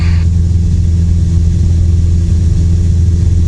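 Steady, loud, low droning engine of a small training airplane heard from inside the cockpit as the throttle is adjusted, holding an even rumble throughout with no pauses.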